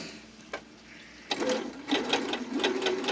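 A sewing machine runs a 2.5 length stitch, starting with a brief whir, pausing, then stitching steadily with a rapid, even mechanical chatter close up.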